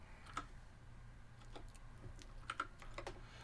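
Keystrokes on a computer keyboard, tapped out singly and in short irregular bursts against a low steady hum, fairly quiet and close.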